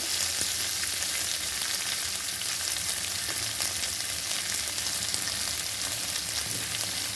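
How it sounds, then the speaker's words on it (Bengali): Chopped onion frying in a tablespoon of oil over raised gas, a loud, even sizzle that hisses continuously up close with no talk. "এখন দিয়ে দেবো পেঁয়াজ কুচানোটা তেল আমি দিয়েছি এক টেবিল স্পুন কম তেলে রান্না করছি"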